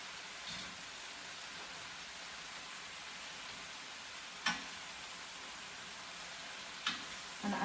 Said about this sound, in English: now I'm going to drop in my noodles. And then like stir like carefully